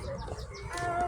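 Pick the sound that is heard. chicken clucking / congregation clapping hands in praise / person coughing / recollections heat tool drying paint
chicken clucking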